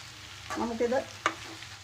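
A spoon stirs spinach and potato in a frying pan: a few short scraping strokes with a light sizzle underneath, close and fairly quiet, with one sharper clack near the end.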